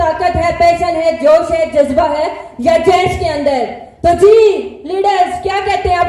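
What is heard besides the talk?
No everyday noise stands out behind the speech.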